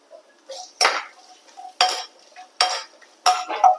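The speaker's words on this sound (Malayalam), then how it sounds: "തേങ്ങാക്കൊത്തിട്ട് കൊടുക്കുക നമുക്ക് ഒന്ന് വറുത്തെടുക്കണം" Coconut pieces roast in coconut oil in a pan for kalathappam, heard as four loud, separate stirring scrapes with a faint sizzle between them and no talk.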